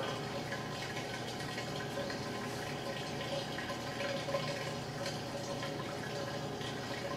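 Water flowing steadily over and through grain mash during sparging in a Grainfather brewer, a soft continuous trickle and wash that stays even and fairly quiet throughout, with no voices.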